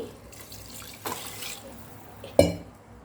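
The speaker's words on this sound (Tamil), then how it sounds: "இந்த டம்ளரில் ரெண்டு டம்ளருங்க தண்ணி இன்னும் கொஞ்சம் ஊற்றுறேன்" Water splashes and pours from a tumbler into a pot in two short bursts, the second sharper and louder, with quiet background noise between.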